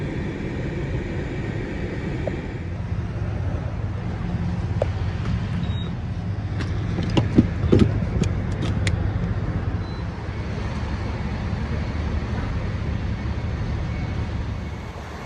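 A Chevy Tahoe pulls into an unplowed, snowy gas station, its engine and tires a steady low rumble with a few faint clicks and crunches midway. Nobody speaks.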